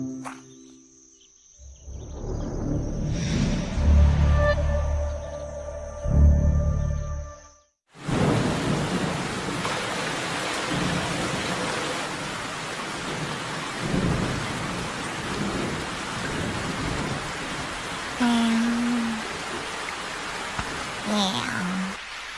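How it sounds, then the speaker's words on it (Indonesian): Heavy rain pours steadily with rumbles of thunder, starting after a dense low rumble and continuing as a loud, close downpour with a faint insect chirp. "kenapa hujannya tidak berhenti-berhenti ya?"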